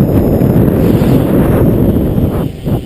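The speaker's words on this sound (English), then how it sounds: "we're dealing with about 20 to 25 mile an hour wind" Strong beach wind of about 20 to 25 miles an hour buffeting the microphone, a loud, continuous low rumble that dips briefly near the end.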